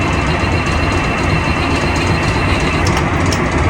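A 1994 Freightliner cabover truck's engine cranks over with a dense, loud, continuous rumbling churn that barely varies in level from start to finish, close up, with no voices.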